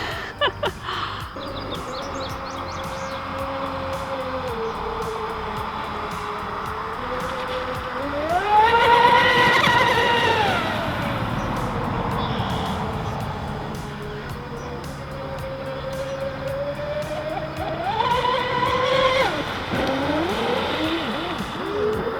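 The high-pitched twin brushless electric motors of a Pro Boat Miss GEICO Zelos 36-inch RC catamaran whine and rise in pitch as they speed up, fading and surging again at moderate distance, with faint bird chirps.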